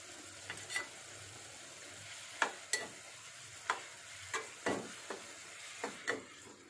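Chopped ridge gourd cooking in a covered pan over a low flame, giving faint soft crackles with a scattering of sharper ticks and pops at irregular intervals over a quiet background.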